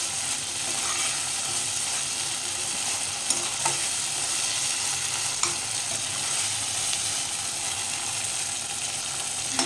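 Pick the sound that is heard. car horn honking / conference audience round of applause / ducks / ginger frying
ginger frying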